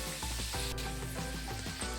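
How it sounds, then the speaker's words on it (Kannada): Karigadabu fry in hot oil over a medium flame, a close, continuous bubbling sizzle broken by a few pulses and a brief crackle. "ನೋಡಿ ಎಣ್ಣೆ ಕಾದ್ಮೇಲೆ ಈ ಥರ ಫ್ರೈ ಮಾಡಿ ಹಾಕ್ಕೊಳ್ಳಿ."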